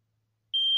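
After a brief silence, a riding mower's safety switch warning sounds a single steady high-pitched electronic beep that starts abruptly and holds, loud and close.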